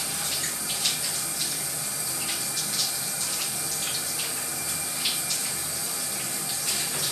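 Tap water runs steadily into a sink as soap is rinsed from hands, a continuous close splashing hiss with no talking.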